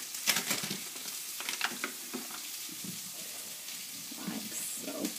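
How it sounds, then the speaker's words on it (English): Peppers frying in a pan on the stove give a steady, close sizzle with bursts of crackle and some stirring scrapes, with no talk over it. "have my peppers cooking away"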